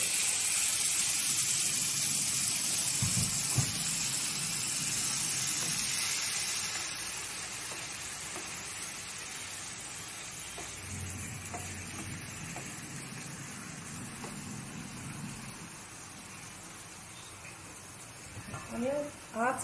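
Sizzling and steaming hiss from a pan of Bengali sukto, a mixed vegetable dish with papaya and coconut, after a small splash of water is added; broadband frying noise, louder at first then settling, with faint background voices.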